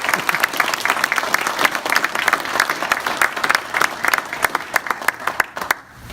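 An audience at a retirement ceremony breaks into sustained applause, a dense, loud wash of many hands clapping together that holds steady for several seconds before thinning out at the end.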